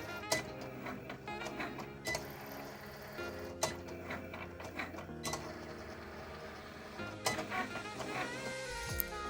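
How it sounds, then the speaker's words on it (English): A Cricut cutting machine runs steadily, giving off a continuous mechanical whir with whining motor tones and periodic sharp clicks and knocks from the carriage, close and unaccompanied by talk. "Don't you just like to hear the sound of the Cricut machine going?"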